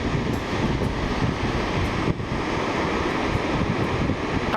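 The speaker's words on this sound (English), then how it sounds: "The sheer amount of water falling down such a high cliff is almost unbelievable. The noise it makes alone is just shocking." Dettifoss waterfall in Iceland in winter sends up a constant broad roar of water falling from a high cliff, with wind buffeting the microphone throughout.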